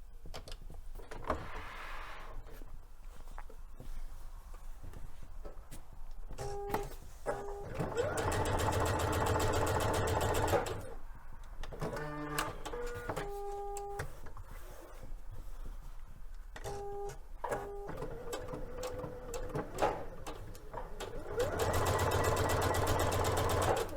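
A sewing machine runs a long basting stitch with its longest stitch length and no backstitching, in several separate bursts of steady mechanical whirring, close and clear, with short pauses and handling noises between runs.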